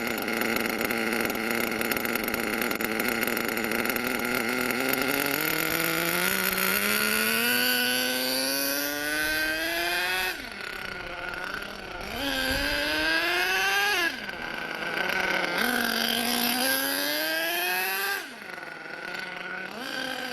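A small model engine runs loud and close, its whine rising and falling through several throttle bursts as the low-speed needle is adjusted, with no talking.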